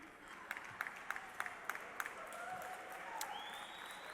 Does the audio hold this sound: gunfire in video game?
no